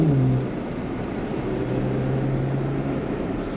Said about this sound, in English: So you can change the loudness of the exhaust?